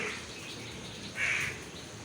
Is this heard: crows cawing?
yes